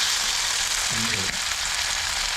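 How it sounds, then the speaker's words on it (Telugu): Chicken leg pieces hit hot oil in a pan and sizzle, giving a loud, steady hiss with a brief bubbling burst as they settle, close up and with no one talking. "ఇప్పుడైతే ఆయిల్ హీట్ ఎక్కింది, వేసుకోవాలి లెగ్ పీసెస్"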